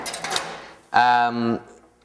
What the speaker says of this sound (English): We have a cash drawer, which beeps and stuff.